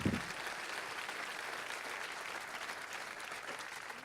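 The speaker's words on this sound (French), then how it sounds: "Alors Lou Bradagan, on peut l'applaudir" Award ceremony audience claps for a prize winner in a hall, an even, steady patter of many hands held at moderate level throughout, with a brief louder onset.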